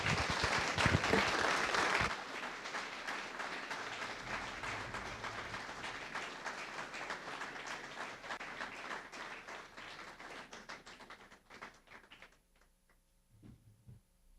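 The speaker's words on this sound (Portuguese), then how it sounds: "salva de palmas para o Quinteto Villa-Lobos" A ceremony audience gives a round of applause for the Quinteto Villa-Lobos. The clapping bursts loudly at first, then eases into a steadier patter that thins to scattered claps and fades near the end.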